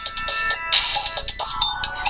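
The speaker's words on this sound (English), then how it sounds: "That's my phone." A mobile phone rings in a small studio, playing a bright, rhythmic electronic ringtone melody in short repeating pulses, loud and close with no talk over it.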